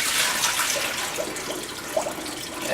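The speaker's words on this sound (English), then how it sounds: "You can initially pour in some water to wash up all the residues in the hopper" Water poured into the hopper of a Presidential soft-serve machine to rinse out residue, a steady splashing and trickling wash with small gurgles throughout.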